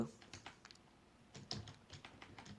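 Python code is typed on a computer keyboard in quick, irregular bursts of close, crisp key clicks, with a short pause in the middle and no talking.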